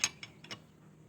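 A size 17 wrench tightens the oil drain bolt on a Suzuki Burgman Street scooter, giving three or four faint, quick metallic ticks close by.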